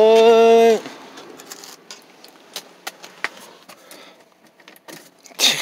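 Porsche car keys jingle with a series of light metallic clinks and rattles, intermittent and close, after a brief tonal sound at the start.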